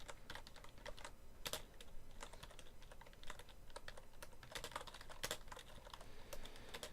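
Rapid typing on a computer keyboard, a steady run of light, quick key clicks with a few louder taps, close and fairly quiet with no talking.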